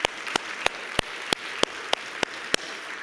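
Church congregation applause, a steady wash of clapping with sharp, evenly spaced louder claps about three times a second.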